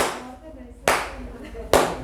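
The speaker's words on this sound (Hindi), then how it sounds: "ताली इसको बोलते हैं मैडम" Two sharp, loud hand claps sound about a second apart, each a crisp slap, while someone talks over them.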